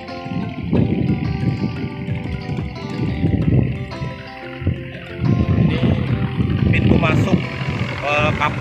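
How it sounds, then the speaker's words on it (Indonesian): Fishing boats with droning engines motor through a harbor entrance at Muara Indah beach in Asemdoyong, their steady, tonal hum continuous and fairly close while people talk over it throughout. "Kapal nelayan Doyong keluar masuk."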